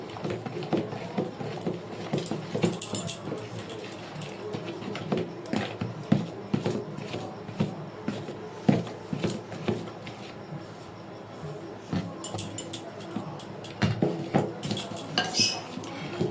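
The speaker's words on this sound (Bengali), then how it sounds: "শুকনো উপকরণগুলো দিয়ে এবার আস্তে আস্তে এটা মিক্সড করে নেব।" Dry ingredients for a homemade chocolate cake are stirred in a bowl, giving a run of light metallic clinks and scrapes from a utensil against the bowl, close up and fairly quiet.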